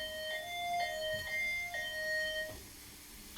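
Fire alarm smoke detector signal: a repeating electronic chime of bright sustained tones, several rising and falling notes in a steady pattern, clear and moderately loud with no voice over it.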